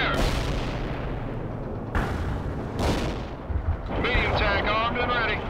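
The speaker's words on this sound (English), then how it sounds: "We're set up for heavy fire support. Target confirmed. Fire." Heavy artillery barrages in the World in Conflict strategy game boom out in rolling, reverberant blasts, several loud impacts in sequence with radio-style unit voices layered over the bombardment.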